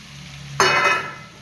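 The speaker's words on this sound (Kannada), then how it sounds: "ಚೆನ್ನಾಗಿ ಫ್ರೈ ಮಾಡಬೇಕು." Boiled sweet corn hits a hot pan for macaroni pasta, setting off a sudden close sizzle that fades over about a second.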